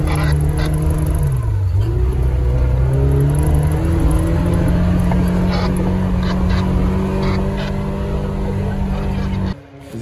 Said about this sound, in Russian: тачка в отсечке